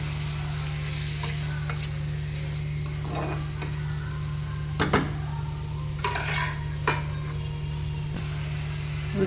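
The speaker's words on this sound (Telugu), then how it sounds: "మొత్తం ఒకసారి కలుపుకోవాలి." Chopped tomatoes for a curry are stirred in a sizzling pan, with the utensil scraping and clinking against the metal in a few sharp bursts over a low steady hum.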